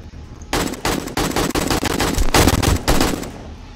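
Rapid automatic gunfire in the 7 Days to Die video game during a zombie horde night, a loud sustained burst of machine-gun fire with defensive turrets shooting, continuous for several seconds before cutting off.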